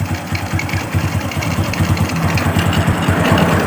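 A freshly rebuilt Honda Revo Absolute motorcycle engine idles up close with a smooth, rapid putter, a fast even pulse that stays loud and steady from start to finish.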